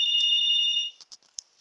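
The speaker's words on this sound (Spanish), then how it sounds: "el teléfono suena cuando yo voy a grabar" A telephone ringtone chirps loudly with a steady electronic tone for nearly a second, then cuts off, followed by a few faint short blips.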